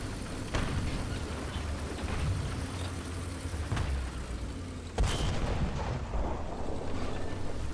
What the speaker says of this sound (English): Over there, there's a tank firing.